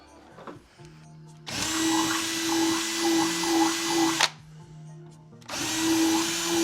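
A power drill bores a hole in a HasLab Proton Pack in two sustained loud whirring runs with a brief stop between, the motor's steady whine close and dominant.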